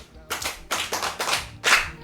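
Children clap their hands in a few sharp, loud bursts, about five separate rounds of applause spaced roughly a quarter to half second apart, close by.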